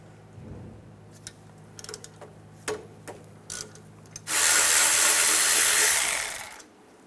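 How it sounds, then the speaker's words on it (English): A socket wrench with a 13mm socket works the front brake caliper bolts on a 2007-2017 Ford Expedition: scattered sharp clicks and taps up close, then a loud, harsh, sustained rasping burst lasting about two seconds before cutting off. "Take the caliper bolts off, use a 13mm socket."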